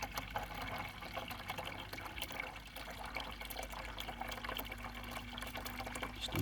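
Rainwater pouring into a watering can in a garden, a steady close splashing and gurgling stream that continues throughout without talk.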